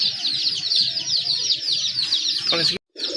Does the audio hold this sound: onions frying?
no